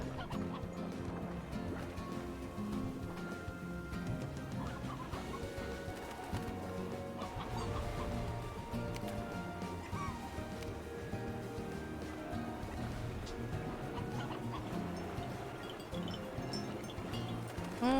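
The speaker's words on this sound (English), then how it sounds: "The chickens are living." Chickens cluck steadily in the video game Slime Rancher, set amid a busy, continuous bed of game music and effects that lasts throughout.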